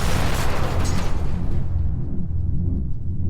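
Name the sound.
explosion crash like thick metal shattering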